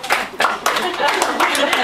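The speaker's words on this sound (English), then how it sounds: "So, huge round of applause for you guys getting me out of work today." Audience applause with a burst of clapping and cheering, fairly loud and close, filling a school auditorium during a guest speaker's introduction.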